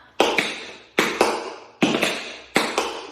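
Four crisp tap-shoe sequences ring out alone, each a sharp scuff and hop followed by heel and step strikes, evenly spaced in a steady practice rhythm.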